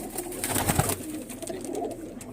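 Pigeons kept in a winter loft coo softly and steadily throughout, a close, low, rolling murmur with a faint background hiss and no voices.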